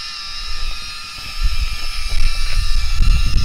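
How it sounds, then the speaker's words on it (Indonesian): A BetaFPV Pavo 20 Pro FPV drone flying outdoors gives off a steady high-pitched motor whine, with gusty low rumble of wind against the microphone building toward the end. "Itu drone-nya ya."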